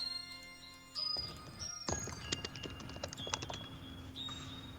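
Typing on a computer keyboard: a steady patter of light key clicks with occasional firmer taps, heard close over faint background tones and hum, with no voices.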